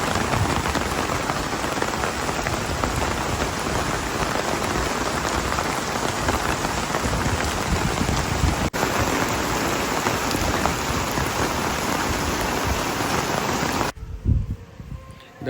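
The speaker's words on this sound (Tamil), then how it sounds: "மழை பெய்ய ஆரம்பிச்சிருச்சு." Steady rain pours down at Malampuzha dam in Palakkad, a dense hiss of drops on surfaces that continues without a break and stops suddenly near the end.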